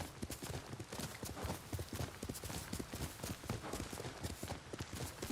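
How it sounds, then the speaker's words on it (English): A ridden horse in a video game clip-clops along at a brisk, steady gait, the quick hoofbeats fairly close and continuous. "I guess I'll get on my horse for this"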